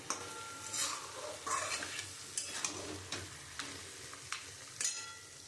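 A spoon scrapes and knocks in a pot while garam masala is stirred into a fish-head muri ghonto made with rohu, a series of soft intermittent clinks and scrapes over a faint simmer, no talking.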